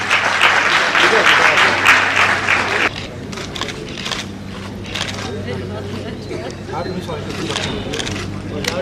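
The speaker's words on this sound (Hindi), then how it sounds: "जरा तालियां जोरदार होनी चाहिए" An audience at a play applauds loudly for about three seconds, then scattered clapping and crowd murmur continue at a lower level.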